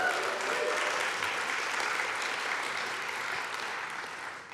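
At a literary awards ceremony, an audience breaks into sustained applause. It forms a dense, even wash of clapping that holds steady and then slowly fades, with no voices on top.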